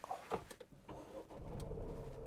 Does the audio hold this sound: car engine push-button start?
yes